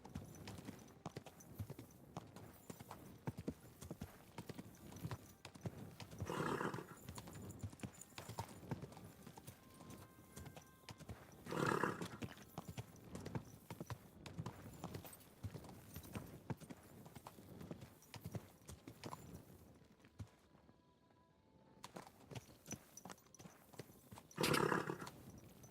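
Continuous clip-clop of a horse's hooves in a video game, with several whinnies rising above the steady trotting, fairly quiet and close, with brief speech at times.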